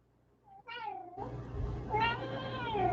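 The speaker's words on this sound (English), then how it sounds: "Meow. Meow. Meow. Meow." A house cat meows close by in a rising then falling cry. A longer, louder, drawn-out meow follows over a low steady background hum.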